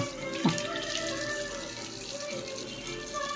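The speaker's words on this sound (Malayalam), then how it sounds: "ആദ്യം ബ്രഷ് കഴുകി കാട്ടി കൊടുക്ക്" Tap water runs steadily into a sink while a toothbrush is rinsed, a close, continuous splash with a brief voice near the start.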